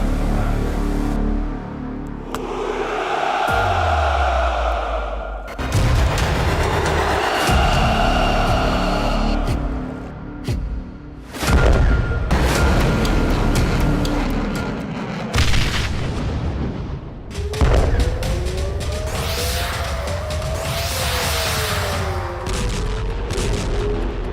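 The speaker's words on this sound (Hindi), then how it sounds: "पुतिन की मिसाइल बौछार, यूक्रेन में भयंकर तबाही।" Missile strikes and explosions during the war in Ukraine: a series of heavy booms and blasts with rumbling aftermath, some sharp cracks and bursts, loud and dense over the whole stretch, with a rising and falling siren-like tone late on.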